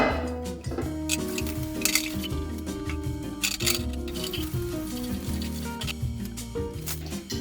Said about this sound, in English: I will just do that with some hot water and soap.